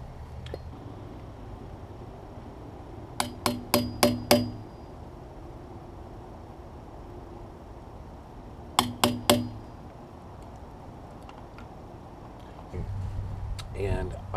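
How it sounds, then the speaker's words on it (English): A hammer strikes a 3/8 inch wood chisel during keel bolt work on a Columbia 36 sailboat. It makes two quick bursts of sharp, ringing taps, about five and then four, over a quiet background. "if I'm using a wood chisel, I've got to use a hammer."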